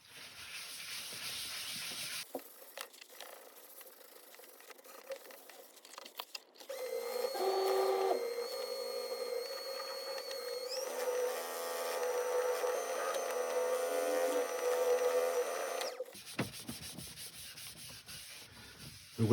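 A woodturning lathe spins while Yorkshire Grit abrasive paste is pressed to the work, giving a sustained close whirring hiss with a steady tonal hum that runs for about ten seconds amid quieter handling sounds.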